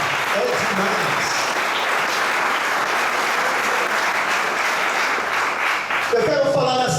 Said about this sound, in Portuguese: Dá uma salva de palmas, porque isso é lindo.